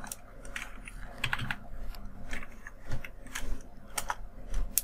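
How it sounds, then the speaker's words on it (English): Steady typing on a computer keyboard while entering code in Visual Studio, with irregular bursts of keystroke clicks at close range and no voices. "Let's type it."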